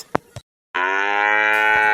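A buffalo in a rural village gives a loud, close, sustained moo that follows a couple of brief knocks and a moment of silence.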